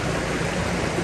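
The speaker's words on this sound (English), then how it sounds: "Some fresh, cold mountain stream water." Cold, fresh mountain stream in the Philippines, its water rushing in a steady, dense broadband wash at close range with no talk.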